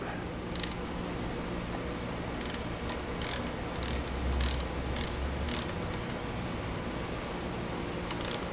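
Bolt being tightened by hand with a ratcheting tool on the repaired manual pull start of a 1982 Evinrude 9.9 hp outboard, giving bursts of close clicking separated by short pauses, with no talking.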